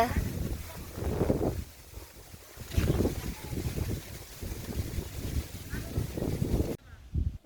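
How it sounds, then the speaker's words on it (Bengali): Strong wind gusts through trees on a rainy village morning, making a rushing, fluctuating roar close to the microphone. Voices talk over the blowing air. "কি পরিমাণ বাতাস ছুটছে জড়িয়ে পড়তাছে এখনই গাছপালাগুলো"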